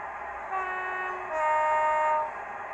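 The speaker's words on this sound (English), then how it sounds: "it also provides a low-high horn sound as well" Digitrains Class 68 diesel locomotive sound decoder in an OO gauge model train, sounding a two-tone low-then-high horn: a lower note for about a second, then a louder higher note, over a steady idling engine hum.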